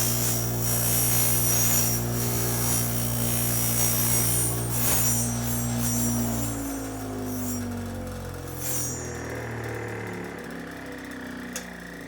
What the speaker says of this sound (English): So I'm going to turn on the buffing wheel,